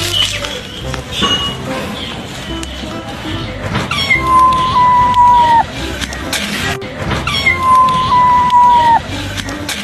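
An orange cat lets out two long, drawn-out wailing calls, each rising then holding steady, loud and close over a murmur of background noise.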